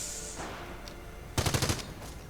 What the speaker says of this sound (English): Heavy machine gun setting up.